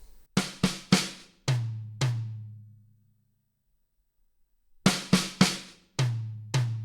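A drum fill that opens with a gallop pattern before the right hand moves onto a tom: three quick sharp hits and two deeper booming tom strokes, a ringing pause, then the same fill played again, loud and close.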